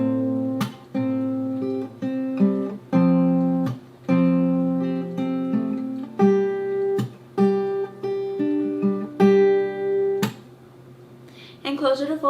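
A pre-chorus picking pattern played slowly on acoustic guitar, steady plucked notes ringing in a repeating rhythm with periodic sharp slaps on the strings, close and clear with no talking.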